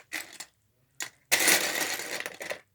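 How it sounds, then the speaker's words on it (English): Loud, close crinkly rustling from handling parts while building an Oxford Eiffel Tower model, two short bursts followed by a longer sustained crackling stretch, with no talking. "Excuse this loud rustling sound."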